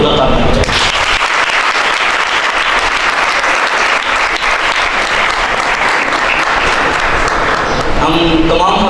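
Loud, sustained applause from a youth conference audience in Islamabad, a dense roar of clapping hands with crowd voices mixed in, continuing strongly throughout.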